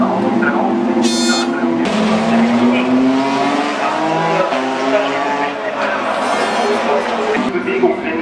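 Renault World Series race cars braking hard into a corner at the Nürburgring, with loud engines shifting down and tires squealing as several cars pass close by, while a commentator talks over them.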